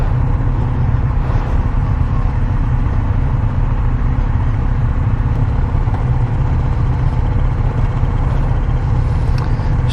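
A 2021 Kawasaki Z900RS engine drones steadily while being ridden, a loud, even low-pitched rumble with constant wind rush and no speech over it.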